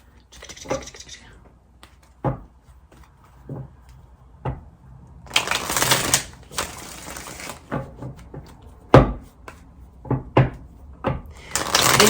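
Tarot cards are shuffled in a few quick riffling bursts, with scattered taps and handling noises in between.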